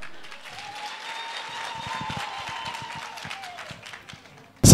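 Mourners applaud a children's choir at Busani 'Ntshebe' Khuzwayo's funeral service, with scattered claps and crowd murmur and a sustained tone running underneath. A sudden loud burst cuts in at the very end.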